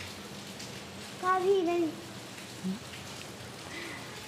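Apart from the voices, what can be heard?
rain falling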